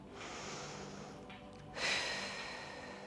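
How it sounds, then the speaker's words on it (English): A long, steady breath blown out through the mouth, close and airy, with a brief pause and a second slightly stronger exhale. "practice breathing in through your nose and out through your mouth"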